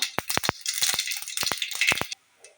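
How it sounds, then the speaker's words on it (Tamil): Mustard seeds pop and crackle in hot oil in a pan, a rapid irregular series of sharp close snaps that stops abruptly near the end. "கடுகு நல்லா பொரியட்டும்"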